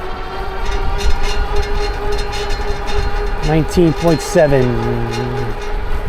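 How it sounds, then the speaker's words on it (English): A Hitway BK6M folding step-thru ebike motor whines steadily at speed while the fender rattles constantly, with someone talking briefly over the ride noise. "That rattling is pretty significant at the higher speeds with that fender."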